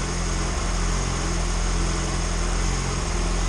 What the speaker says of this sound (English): Like I said, this motor sounds amazing.